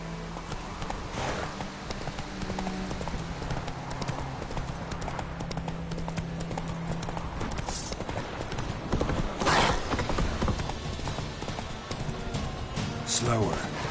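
Roach, a horse in The Witcher 3, gallops with rapid rhythmic clip-clop hoofbeats that run throughout, with occasional snorts and other game sounds, while someone talks over it.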